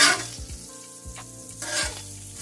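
Bacon frying on a newly seasoned Blackstone griddle, a close, continuous crackling sizzle with bursts of spatter and a few scraping strokes, heard alone without talk.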